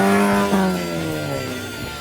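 A Volkswagen Vento race car with open exhaust pipes and no catalytic converter revs loudly and close, its harmonic engine note swelling, briefly catching, then sliding down in pitch as it eases off.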